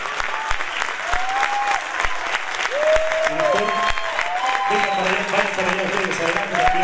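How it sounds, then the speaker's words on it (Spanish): An audience at a song contest breaks into sustained applause, with scattered cheers and whistles rising over the clapping and some talk mixed in. "que sea fuerte el aplauso para la mujer andina"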